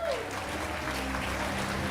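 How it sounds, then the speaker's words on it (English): Applause from a live audience at a Dead by Daylight 10th anniversary livestream event, a steady dense wash of clapping with some faint crowd noise underneath. "I'm glad that the level of applause was about equivalent to Dwight's trauma."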